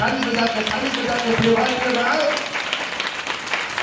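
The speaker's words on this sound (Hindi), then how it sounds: "ताली बजा के" A congregation at a Hindi church service claps hands continuously under a preacher's voice, a steady wash of clapping mixed with speech.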